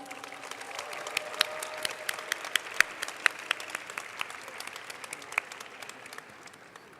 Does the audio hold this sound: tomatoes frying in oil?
no